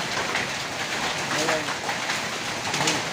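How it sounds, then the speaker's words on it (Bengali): Hailstorm pours down as a dense, continuous hiss of hail and rain on surfaces, steady and close, with a voice talking over it. "এই যে হচ্ছে শিলাবৃষ্টি"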